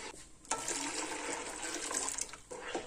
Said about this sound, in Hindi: जग तो मैंने रिंस कर लिया अच्छी तरह से